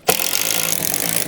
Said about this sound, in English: So I'll go ahead and drill these holes.